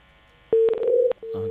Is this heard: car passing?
no